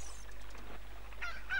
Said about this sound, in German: Und halten ihn den Gockel vor die Fresse.